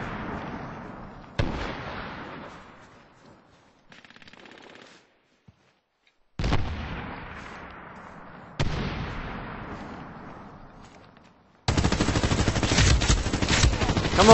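Multiplayer Medal of Honor Warfighter match with several sudden loud blasts of gunfire and grenade explosions, each decaying away, separated by short quiet gaps, ending in a sustained dense burst of rapid fire.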